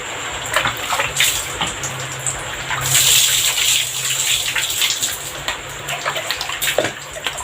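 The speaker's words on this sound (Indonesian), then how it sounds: "Sebelum tidur jangan lupa cuci muka dulu ya." Tap water runs steadily into a basin while someone washes their face before bed, with close splashing and sloshing in an even, loud gush.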